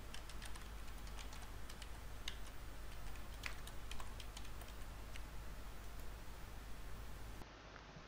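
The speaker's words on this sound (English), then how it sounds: "Oops, we need to type the password again." Password being typed on a computer keyboard during Windows Server 2012 R2 domain setup: a quick run of light key clicks at close range over a steady low hum, with no voices.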